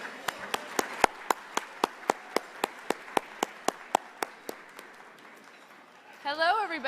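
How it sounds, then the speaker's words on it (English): Sharp, evenly spaced claps ring out one after another in a steady rhythm at a political plenary session, fading before a voice begins speaking at the end. "Give them a round of applause, please."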